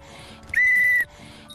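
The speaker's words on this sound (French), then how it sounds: "Pour rappeler Diva, j'utilise un sifflet." A single sharp, high whistle blast lasting about half a second, blown to call a dog back, heard close and clear over a quiet outdoor background.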